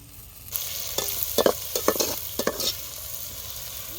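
Onions sautéing with ginger garlic paste, sizzle rising sharply after a quiet start, then several quick scraping stirs of a spoon in the pan before the frying settles into a softer hiss.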